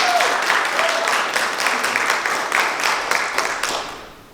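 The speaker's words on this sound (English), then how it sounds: "So everybody give a round of applause for Amani." A crowd at a VidCon Baltimore panel applauds a panelist, a loud even wash of clapping that gradually thins and fades away toward the end.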